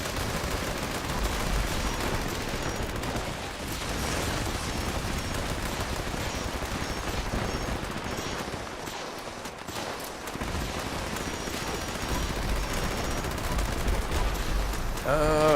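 Bursts of rapid gunfire from Fallout 76 rattle on almost continuously, with a brief lull midway, sounding like dense automatic fire against constant background noise.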